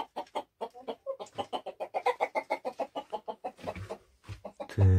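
Hens at a home coop in Oral clucking in a rapid, steady run of close, loud clucks with short gaps, ending in a louder burst of squawking.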